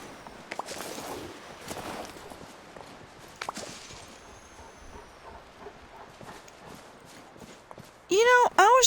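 Horse hooves clip-clopping in Disney Dreamlight Valley, an uneven string of light hoof steps over quiet background game sounds, ending in a louder chiming tone.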